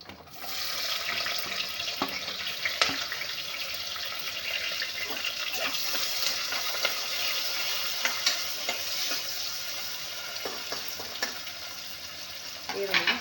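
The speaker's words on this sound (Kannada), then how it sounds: "ಈಗ ಈರುಳ್ಳಿ ಆ್ಯಡ್ ಮಾಡ್ತಾಯಿದ್ದೀವಿ" Chopped onion goes into hot oil already holding cinnamon, cloves and cardamom for a cashew poppy-seed pulao, giving a steady close sizzle and frying hiss throughout, broken by occasional stirring scrapes and clinks, with no talking.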